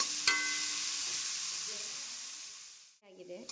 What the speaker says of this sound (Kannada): ಬೇಯಿಸ್ಕೊಂಡಿರೋಂಥ ಸೊಪ್ಪನ್ನು ಹಾಕಿ ಮತ್ತೆ ತಿರುಗ್ಕೊಂಡಿದ್ದೀನಿ